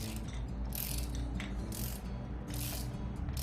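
A ratchet tightening a bolt during cam sprocket installation on an Opel CIH short block engine, giving bursts of clicking in a steady rhythm over a constant low mechanical hum, close and moderately loud.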